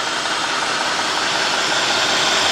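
Cadillac engine running rough while in gear, with a steady loud hiss of air noise over a low, uneven engine rumble.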